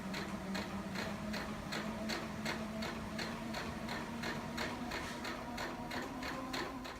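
A sewing machine stitches the end of a bedspread, a steady, fast rhythmic clatter of needle strokes over a constant motor hum, running alone and moderately close.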